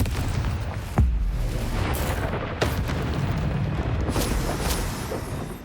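Confringo blasting spell from Hogwarts Legacy going off in deep booming bursts, one heavy thump near the start and another midway, over a steady rumbling game soundscape with no talk.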